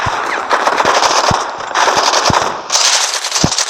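Loud, rapid automatic gunfire in the Modern Combat 5 multiplayer video game comes in sustained bursts with brief breaks and punchy low thuds mixed in.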